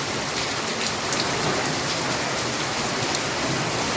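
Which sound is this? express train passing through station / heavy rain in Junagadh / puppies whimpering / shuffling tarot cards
heavy rain in Junagadh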